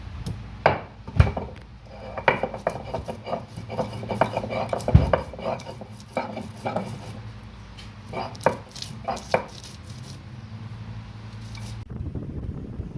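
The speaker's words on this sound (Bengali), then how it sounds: "বন্ধুরা, চিংড়ি মাছের মালাইকারি করার জন্য আদা রসুন বেটে নিচ্ছি।" Ginger and garlic are ground into paste by hand for prawn malai curry in a village kitchen, with irregular knocking, scraping and rubbing strokes against a faint background hum.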